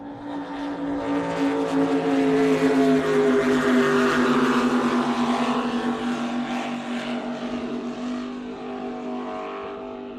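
Supercat racing powerboats roar across Lake Macquarie, a loud sustained high engine whine that swells as the boats pass and slowly eases, with no voices over it.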